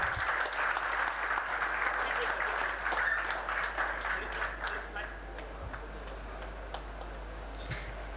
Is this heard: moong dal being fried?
no